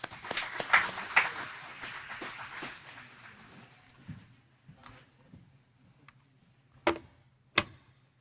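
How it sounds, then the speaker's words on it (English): An audience at a one-day men's event claps, starting with a burst of applause that quickly thins out into scattered, isolated claps, with a faint background hum. "Everyone give them a round of applause"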